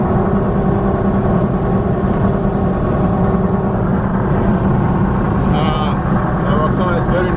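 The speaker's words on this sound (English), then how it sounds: "Our car is very noisy because of the kind of treads that are on the wheels, very thick ones." Loud, continuous road roar from inside a moving car on very thick-treaded tyres, driving uphill between Mazabuka and Kafue, a dense rumbling drone that stays constant throughout.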